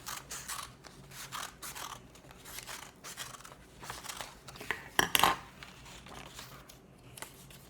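Scissors snip through sheets of colored paper in a run of short, crisp cuts with rustling between them, building to a sharper cluster of snips near the end, close and fairly quiet with no talk.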